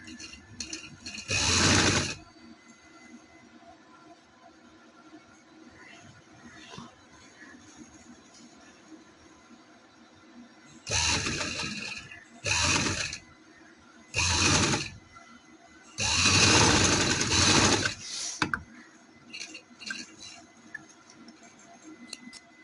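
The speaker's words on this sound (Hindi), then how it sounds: "इधर से हम सिलाई शुरू करेंगे इस तरह से।" A sewing machine stitches a salwar in several short bursts: one near the start, then a cluster of runs later, the longest lasting about two seconds. Quiet handling noises fill the gaps between them.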